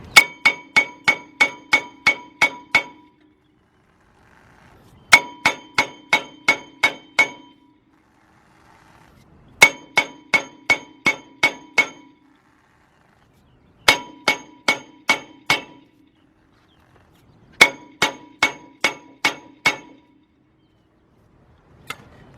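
Rapid metallic blows of a big hammer on a 2003 Lincoln Navigator front brake rotor, struck in five bursts of about six ringing clangs each, separated by short pauses.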